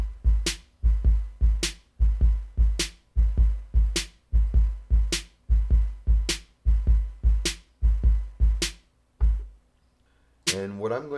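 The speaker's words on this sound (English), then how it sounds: "So the drum groove we have currently sounds like this." A drum groove programmed in FL Studio plays alone, with punchy kicks and sharp hits in a steady repeating pattern across about ten seconds, close and loud, then a brief swelling tail at the end.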